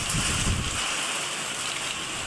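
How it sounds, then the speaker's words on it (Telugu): Heavy rain pours down at night in a village, a thick, even wash of broadband noise that stays constant and fairly loud throughout the short stretch, with no voices. "ఎంత వర్షం పడుతుందంటే అసలు చెప్పలేము అంత వర్షం పడుతుంది భయంకరమైన వర్షం"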